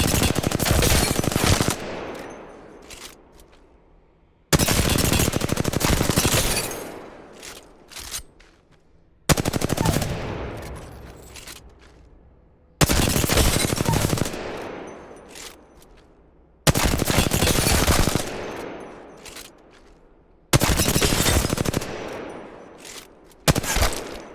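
Automatic weapon fire from the Apex Legends video game roars in long, loud sustained bursts, about six of them separated by short pauses, each fading out as the trigger is released.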